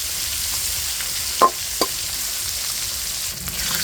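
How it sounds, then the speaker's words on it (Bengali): Koi fish (climbing perch) fry in hot oil in a pan with a constant close sizzle, broken by two sharp clinks of a spatula stirring midway and a soft scrape near the end. "মাছটা ভাজা হয়ে গেছে।"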